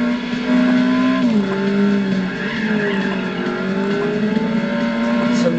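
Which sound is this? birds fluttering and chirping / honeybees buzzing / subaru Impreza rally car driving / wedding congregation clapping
subaru Impreza rally car driving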